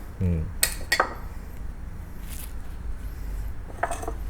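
A metal spoon scrapes and clinks as butter is spread across toast, with a few sharp taps near the start and quieter scraping strokes through the rest.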